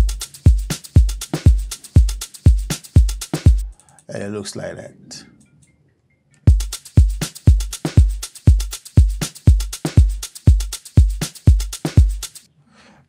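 An Afro house drum pattern built from FPC snares and kicks pounds out in a steady, punchy loop, breaking for a couple of seconds mid-way while a voice speaks briefly before the beat resumes.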